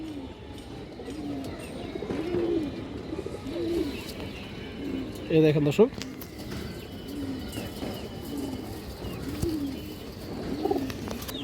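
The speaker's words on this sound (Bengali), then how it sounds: "আর একটা পুরোনো লাইডের খরাগলা মাদি কবুতর" A pure Khoyragola female pigeon from an old line coos in repeated low, rounded calls, close by, with a brief burst of handling noise midway and a voice speaking briefly.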